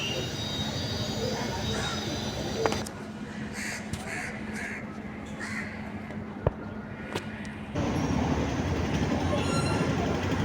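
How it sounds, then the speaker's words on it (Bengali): Train ride from Sealdah toward Naihati: steady rumble of a moving train under constant broadband noise, with a few sharp clanks and a louder surge near the end, crows cawing faintly in between. "শিয়ালদা থেকে ট্রেন ধরলাম, ধরে নৈহাটির উদ্দেশ্যে রওনা দিলাম"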